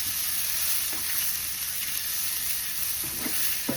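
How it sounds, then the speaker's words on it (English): Onions added to crisp bacon sizzle and fry steadily in a pan, a loud continuous hiss with a few soft stirring knocks near the end, no talking. "I'm going to go ahead and add these onions to this because my bacon is almost done and crispy"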